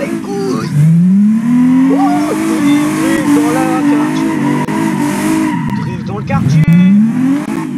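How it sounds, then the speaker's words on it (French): A car drifts through a neighbourhood in the BeamNG.drive driving game, its engine droning and rising in pitch under a long, loud, continuous tire squeal, with someone talking over it. "Drift dans le quartier."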